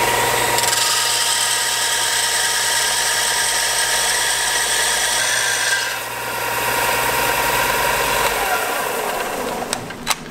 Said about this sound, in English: Drill them mounts.